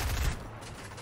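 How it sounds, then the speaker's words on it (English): Brief burst of Fortnite gunfire, a rapid cluster of shots heard at moderate distance, fading quickly within a second. "there's some shooting happening, so I want to go out and see what's happening"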